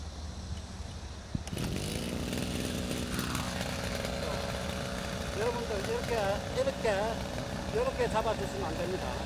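A brush cutter's small petrol engine catches after a short pull, then runs at a steady, buzzing idle for several seconds while someone speaks over it.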